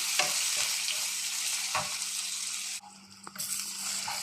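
Food sizzles steadily in a hot pan while a spatula scrapes and stirs now and then, close by, with no talking.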